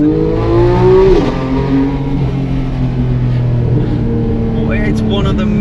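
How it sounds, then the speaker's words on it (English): A powerful Porsche engine revs hard and loud in a tunnel, its pitch sweeping up and down with a reverberant, enclosed echo, then settling into a steady roar. "What a machine, what an engine. I mean, this is such a cool engine."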